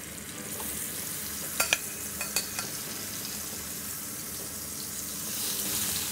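Endives settle into a hot frying pan with a soft, steady sizzle, a few sharp clinks and taps of placing them near the middle, then a slight swell of frying toward the end.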